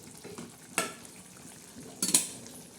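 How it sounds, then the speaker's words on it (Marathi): Fish curry stirred in fried masala in a pan: two sharp scraping clatters of a spoon against the pot over a low, steady background, with no voices. "तर ही मच्छी आपण आता चांगली अशी हालून घेणार आहोत"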